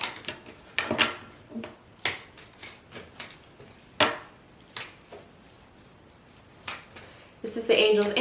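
Bursts of oracle card deck shuffling and riffling close by, interspersed with quiet gaps and occasional soft hand and deck handling sounds.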